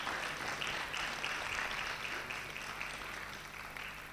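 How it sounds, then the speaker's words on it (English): A conference audience claps for the panel and discussant in a dense, even patter of many hands that sounds moderately distant and fades slightly toward the end. "Can you give the panel and the discussant a big hand of applause?"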